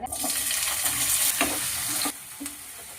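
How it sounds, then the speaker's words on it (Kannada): Potato sticks cut like French fries sizzle steadily in hot oil, a continuous loud frying hiss with light stirring scrapes that eases slightly near the end. "ಇವಾಗ ಅದನ್ನ ಫ್ರೈ ಮಾಡ್ಬೇಕು, ನಾರ್ಮಲ್ ಫ್ರೆಂಚ್ ಫ್ರೈಸ್ ತರ."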